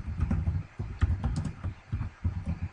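Someone types on a computer keyboard, producing a quick, uneven patter of close keystrokes in short bursts with brief pauses, fairly quiet and without talk.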